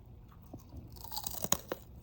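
Crispy beef bacon fried in its own fat is bitten and chewed close up, giving a few faint crunches followed by a quick run of sharper, louder crackly bites.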